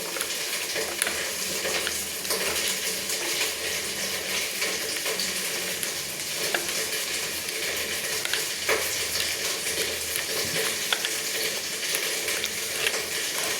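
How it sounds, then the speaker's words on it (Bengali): Ground spices being stirred and mixed with water in a pan while cauliflower cooks for a vegetarian cauliflower roast, giving a steady, close wet scraping and sizzling texture that runs continuously with no talking. "জল দিয়ে আমি মশলাগুলো একসঙ্গে কিন্তু মিক্সড করে নিচ্ছি।"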